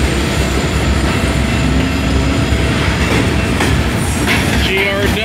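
A CSX freight train loaded with containers rolls past close by. Its loud, continuous rumble carries rail clatter and brief wheel squeals, with faint voices underneath.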